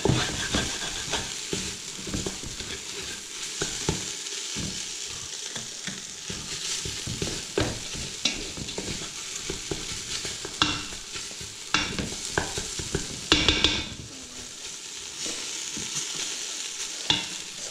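Vegetables for a veggie pasta fry in a pan with a continuous close sizzle, while a spoon stirs them in a steady run of scraping, clattering strokes. There is no speech.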